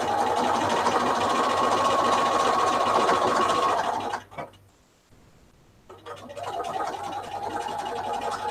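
A home sewing machine stitches through a heavy quilt in a steady, close whir that runs for several seconds, pauses briefly, then resumes stitching.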